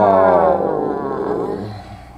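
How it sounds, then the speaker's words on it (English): A single long human yawn voiced aloud, starting loud with a rich groaning tone and trailing off into a softer breathy fade, close and alone. "Yawning."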